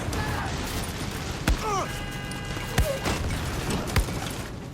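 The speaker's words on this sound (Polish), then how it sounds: "chyba jeszcze ta beczka mi tam wybuchła" A barrel blowing up in the video game Far Cry 6, heard as a few sharp distant blasts spaced apart over quiet game ambience, with a brief whistling tone between them.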